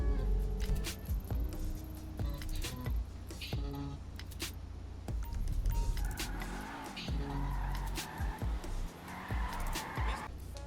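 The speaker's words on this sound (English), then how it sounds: "Now I'm going to show you the speed of the car." Car engine in the racing game Rapid GT, revving and accelerating in a loud continuous roar with gear shifts and rising pitch sweeps, a speaking voice running over it throughout.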